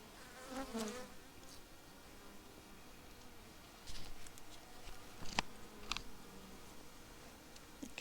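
Honeybees buzzing near a hive, a steady low hum of many insects with occasional closer passes and light tapping and clicks.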